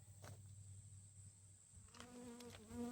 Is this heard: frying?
no